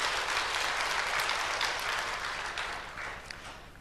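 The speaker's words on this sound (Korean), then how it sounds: "박수로 하나님께 영광 돌리겠습니다." A church congregation applauds to glorify God, a dense round of clapping that starts strong and gradually thins and fades toward the end.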